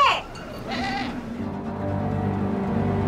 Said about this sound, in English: You just whistle and the goats answer back again.